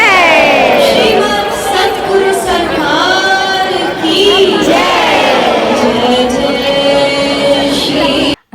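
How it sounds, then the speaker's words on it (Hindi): A dense crowd at a temple on New Year's Day, voices merging into a loud, continuous roar of chatter and calls with chanting or singing woven through, steady and close for the whole stretch before cutting off at the end. "बहुत ज़्यादा भीड़ होती है यहाँ पर।"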